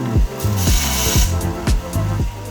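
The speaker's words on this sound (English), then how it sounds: "try and sand this off" Rhythmic grinding bursts from a power sander working on a metal Barbasol shaving cream can prop, repeated roughly every quarter second with rising pitch sweeps, loud and close.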